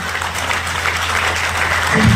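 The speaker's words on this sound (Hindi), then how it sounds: "जोरदार धमाकेदार ताली होनी चाहिए।" A crowd at a business speech event in India applauds loudly and steadily, a dense wash of clapping that carries on throughout without a break.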